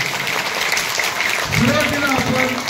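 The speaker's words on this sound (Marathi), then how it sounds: "एकदा जोरदार टाळ्या वाजवा" An audience claps together at a primary school quiz competition, producing a dense, continuous patter of applause while a voice speaks over it.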